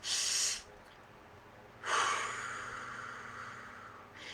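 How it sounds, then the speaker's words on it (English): One person does a physiologic sigh, two quick inhales and then a slow exhale: a short breathy burst, a pause, then a long airy breath that fades out, close and quiet. "it is our breathing in twice fast and then letting it out slowly."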